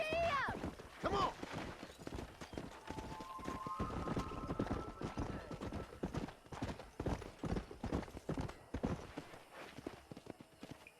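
Horse hooves clip-clop in a quick, rhythmic gallop through Red Dead Redemption's New Austin ranch country, with a short whinny near the start and faint voices under the hoofbeats.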